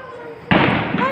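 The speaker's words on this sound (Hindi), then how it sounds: "अब हम लोग पटाखे फोड़ेंगे" A firecracker bursts during a Diwali celebration with one sudden loud bang that leaves a brief crackling tail, heard near and under people talking.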